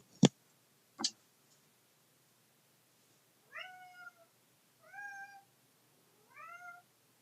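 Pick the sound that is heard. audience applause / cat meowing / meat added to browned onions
cat meowing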